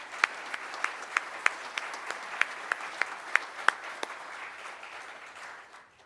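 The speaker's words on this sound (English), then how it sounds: "I want to give them a big round of applause" An audience at a Rotary Club of Tulsa meeting applauds board members with steady clapping and a few sharp individual claps standing out, fading slightly toward the end.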